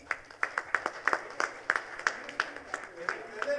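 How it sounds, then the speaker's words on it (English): Scattered clapping at an industry livestream event in a data-center engineering setting, sharp separate claps at an uneven rhythm, moderately close, with a voice running faintly underneath. "Big round of applause guys, come on."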